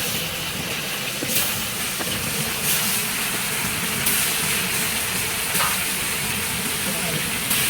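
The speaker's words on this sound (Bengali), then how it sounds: "এবারে মাছের পিসগুলো আমি কড়াতে দিয়ে দেবো।" Rohu fish pieces frying in hot oil in a wok, giving a steady, close sizzle and hiss that runs unbroken throughout, with faint crackles on top.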